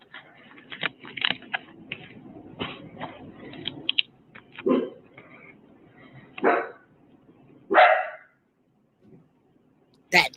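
A dog barks several times at a moderate distance, single loud woofs spaced a second or two apart, mixed with faint background voices and clatter.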